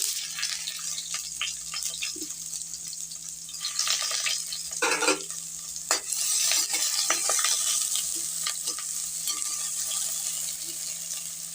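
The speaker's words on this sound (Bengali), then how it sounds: "ভালো করে ভেজে নিই পেঁয়াজটা" Chopped onions fry in hot oil in a wok, giving a steady sizzle with intermittent scraping and clinking stir strokes, a louder burst near the middle. No one speaks.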